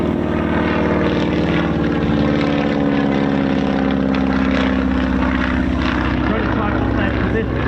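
A 1930s Stearman biplane trainer flies past at the Old Buckenham Airshow 2024, its radial engine and propeller giving a steady, loud droning roar that holds throughout with a slight swell partway through.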